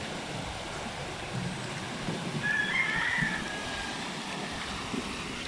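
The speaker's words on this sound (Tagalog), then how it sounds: "Apaw na naman ang sapa." Flood water from an overflowing creek beside a piggery farm rushes and sloshes steadily, a continuous moderate wash of flowing water heard from nearby, with no talking.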